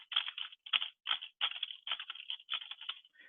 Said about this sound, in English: They're sitting there typing in the background